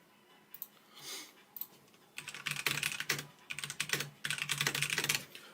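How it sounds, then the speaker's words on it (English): Typing on a computer keyboard, bursts of rapid clicking keystrokes in several runs with brief pauses, close and clear against a quiet background. "Let me type it up"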